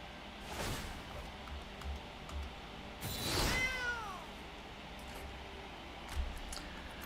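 Cartoonish cat meows from the MTG Arena digital card game, two separate yowls about three seconds apart, the second longer with a wavering, falling pitch, over a steady low hum of game sound.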